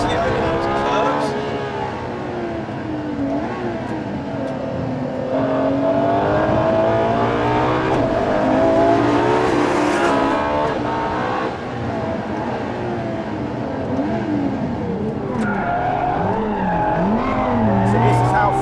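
A 950bhp Ferrari LaFerrari is driven hard on the limit over curving road, its engine note loud and continuous, pitch rising and falling through gear changes, with brief tyre squeal near the end.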